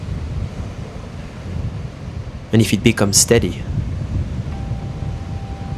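Wind and waves roll on steadily in the rough Danish sea during a cold plunge, a constant buffeting rush at the microphone, with a brief spoken phrase breaking in midway.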